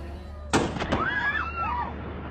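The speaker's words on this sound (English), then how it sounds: "A bombing of a Syrian army base being used by pro-regime Iranian forces." A single sharp blast from a bombing at a Syrian army base bursts out, followed by faint rumbling and a lingering echo.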